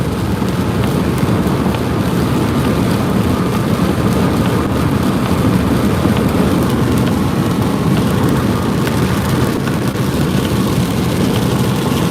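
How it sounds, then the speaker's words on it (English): Heavy rain roars inside a vehicle driving through a storm's rain shaft near Denver, Colorado, a loud, dense, continuous wash of drops drumming on the car under a low road and engine rumble. "Got a rain shaft to punch through here."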